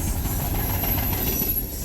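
A CSX freight train hauling trash and shipping containers rolls past on the Norfolk Southern D&H line, a loud, close, continuous rumble with wheel clatter and a faint squeal.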